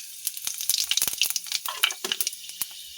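Dried red chillies and panch phoron fry in hot oil in a pan, giving a bright, steady sizzle with rapid crackling pops and spits, close and loud with no voices.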